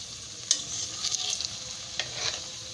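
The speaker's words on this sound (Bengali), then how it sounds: "এখন চলেন এটাকে আমরা ভাজবো। এখন আমি এটা তেলে ছেড়ে দিব" Potato spring rolls frying in mustard oil, a steady close sizzle broken by a few sharp crackles and utensil knocks, with no talk.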